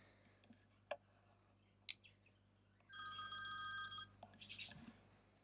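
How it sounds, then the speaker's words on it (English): A telephone rings in a steady electronic trill for about a second, then stops, followed by a few clicks in a quiet room. "My uncle's phone is ringing."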